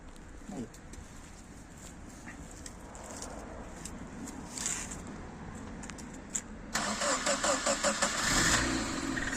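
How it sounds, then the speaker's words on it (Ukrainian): After a stretch of quiet outdoor ambience, a VAZ 2110 car engine running on petrol and LPG cranks and catches, then keeps running with a steady, close idle. "Зараз покажемо, як він заводиться, що все робить."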